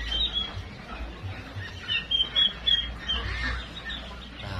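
Young ducklings quack and peep in a scattered chorus, soft to moderate over a low background rumble, with no one talking.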